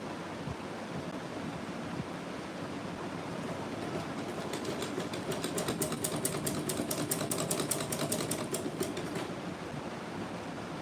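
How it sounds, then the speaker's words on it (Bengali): Domestic sewing machine stitching the lower layer of a kameez neck band, a fast rattling run of stitches that builds in the middle and trails off, fairly close with room noise and no talk. "ছোট করে এইভাবে ধরে এটাকে সেলাই দেবো"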